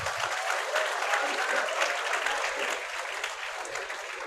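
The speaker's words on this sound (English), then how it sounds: "A huge round of applause for Ms." A school meeting audience gives a loud, sustained round of applause that fills the room evenly and eases off slightly toward the end.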